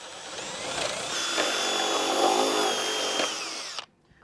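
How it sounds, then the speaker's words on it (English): A power drill with a 1/2-inch bit whines steadily as it bores through a block for a few seconds, then stops abruptly. "I'm going to take a 1/2-inch drill bit and I'm going to drill through the block"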